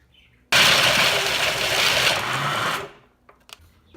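A food processor whizzes dates into a protein-bite mixture with a loud, abrupt whir lasting a little over two seconds, then stops, leaving a few small clinks and knocks.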